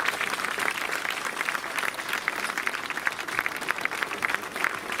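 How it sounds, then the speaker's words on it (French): A crowd at an outdoor protest march in France claps loudly and steadily, dense applause carrying on for several seconds with scattered cheers rising through it. "on va tous applaudir très fort pour Tata."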